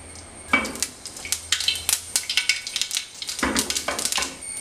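Mustard seeds crackle and pop in hot oil in a pan while tempering for a bitter gourd thoran, a stream of sharp close spluttering bursts that thickens and continues steadily, with no talk.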